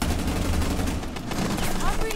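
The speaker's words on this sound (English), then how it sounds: "I'm shooting through Janet's doorway." Gunfire in the video game Rainbow Six Siege, with rapid, continuous automatic shots close by and loud, a voice speaking faintly underneath.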